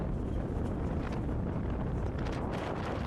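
Strong wind blasts across a microphone while sailing between islands near Motuihe and Rakino. A constant heavy roar with low rumbling buffeting fills the whole stretch.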